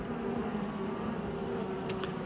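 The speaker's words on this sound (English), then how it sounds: "All the bees are getting in our way." Honeybees swarm around an opened hive during an inspection, a close, continuous droning hum with a steady tone and no talk.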